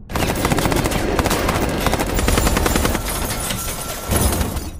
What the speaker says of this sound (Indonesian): kembali memberondong tembakan secara sembarang